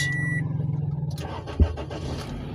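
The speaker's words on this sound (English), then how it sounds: "That is how to start the car" An automatic car's engine is cranked with the key and catches, a sharp starter thump rising out of a steady idling hum with a faint high chime at first.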